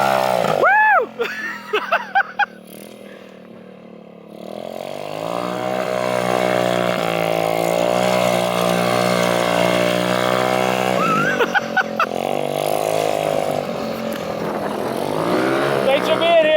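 A small minibike engine revs loud and close for several seconds while the bike spins a donut outdoors. Excited voices shout before and after the sustained buzzing run.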